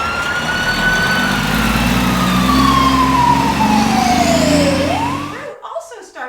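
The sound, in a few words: fire truck siren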